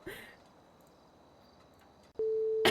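A telephone call tone heard while calling, a single steady beep that begins near the end after a quiet stretch, clear and close.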